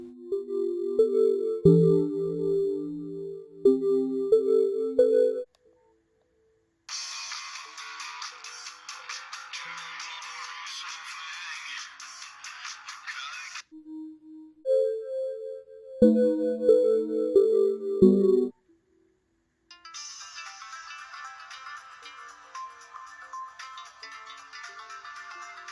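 Ringtones from a Nokia 7370 phone play one after another: tonal melodic chimes alternate with bright, dense buzzy polyphonic tunes, each loud and close, separated by brief silences, with no talking.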